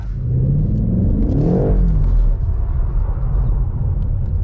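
A BMW M8 Competition with its 625 hp engine pulls hard at full throttle, a loud, rising engine roar that sweeps upward in pitch and then settles into a steady, heavy rumble close by.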